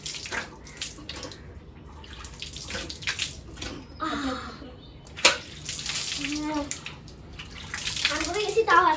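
Water poured from a tap or jug over someone's face for washing, a splashing, running flow that comes and goes over several seconds, close by, with brief voices and small handling noises around it.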